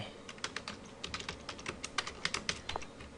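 Typing on a computer keyboard while entering data into a cooperative shop program. Quick, irregular keystrokes click steadily and close up, with no voices.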